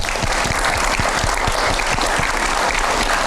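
A studio audience on a Metro TV talk show breaks into dense, steady applause, many hands clapping loudly and evenly for the full few seconds with no voices over it.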